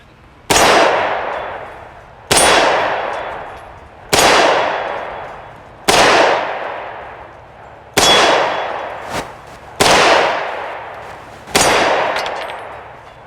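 Tokarev TT-33 pistol shots hit a steel target at an outdoor range, seven loud, evenly spaced cracks each followed by a long, fading metallic ring.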